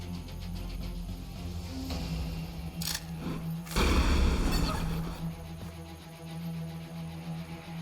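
A grenade explodes in the sci-fi strategy game Age of Wonders: Planetfall, one loud booming blast with a rumbling tail after a couple of sharp clicks, set over a droning game music bed.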